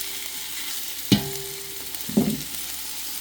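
Garlic and onions frying in a pot for collard greens, a steady soft sizzle broken by two brief, louder clatters as the pot is stirred, close and without any talk.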